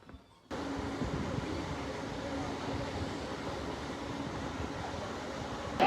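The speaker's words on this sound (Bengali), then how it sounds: "তো গাইস ট্রেনটা ছেড়ে দিল, ঠিক আছে।" Train departing from a station, heard as a steady rumbling wheel-and-carriage drone from aboard or nearby that starts abruptly after a short quiet moment and continues evenly, moderately loud.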